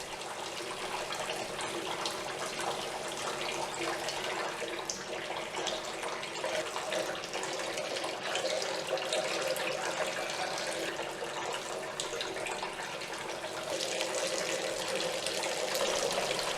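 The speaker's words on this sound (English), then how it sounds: "you can change the way the fountain sounds while still protecting your pump and using it as a filter" A tabletop water fountain with an adjustable foam accessory in its spill bowl gives a steady, close trickle and splash of running water that carries on evenly throughout, with no talking.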